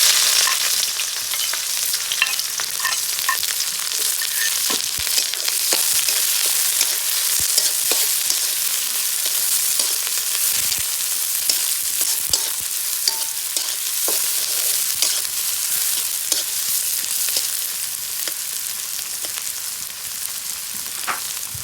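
Chopped onion frying in a pan for bhuna khichuri, a loud, steady hiss and crackle of oil with occasional stirring scrapes, continuous and close.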